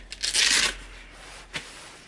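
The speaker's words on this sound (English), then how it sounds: "So hook and loop system, these stick on quite nicely." A quick rasping rip as a hook-and-loop sanding sheet is pressed and peeled onto a Parkside PMFS 200 C3 multi-function sander pad, then a short second scratch, close and fairly loud.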